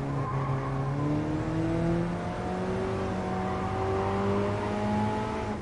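Tires squeal and skid as a race car slides under e-brake in Gran Turismo Sport, with a long rising and falling screech over a steady engine drone.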